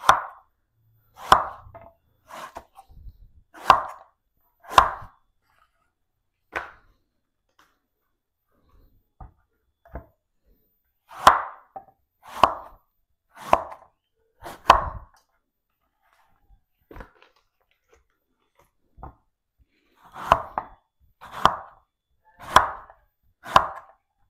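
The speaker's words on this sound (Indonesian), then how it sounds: "biasanya saya motongnya seperti ini teman-teman, supaya gede-gede" A knife chops taro into large portion-sized pieces on a board, giving sharp, close knocks in clusters of three to five with pauses between groups.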